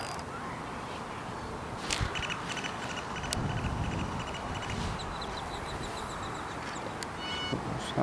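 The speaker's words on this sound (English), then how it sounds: "These ducks are gonna think I'm throwing food." Several ducks quack in short bursts at an urban pond over a steady outdoor background hiss, moderately close, with a few scattered calls throughout.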